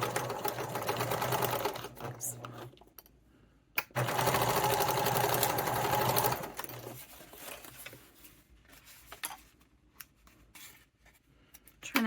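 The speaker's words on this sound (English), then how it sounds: "I just make sure that I sew to the left of my seam by just a smidge." A sewing machine stitches a seam on fabric for a mitered-corner placemat, running in two steady, close whirring bursts with a short pause between them, then quieter handling noises.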